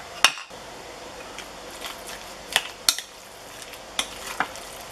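Minced garlic and ginger stirred in a pan, heard as a few sharp utensil scrapes and clicks over a faint steady sizzle, with no voices.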